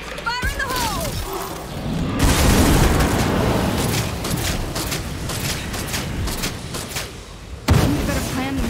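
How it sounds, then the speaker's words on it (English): A napalm grenade goes off in State of Decay 2, a loud burst of roaring fire and crackling that swells and sustains for several seconds, with a second sharp blast near the end, while game sounds and voices play underneath. "I'm gonna throw the napalm. Fire in the hole!"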